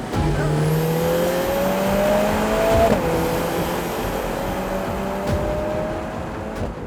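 A Lotus Emira's four-cylinder engine drones loudly and steadily, its pitch rising as the car accelerates through gears with short shift breaks.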